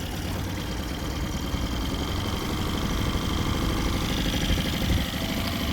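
A 2009 Mercury 8hp short-shaft four-stroke outboard motor runs steadily at light throttle, a close, continuous low putter with a slight wavering in its revs and no talk.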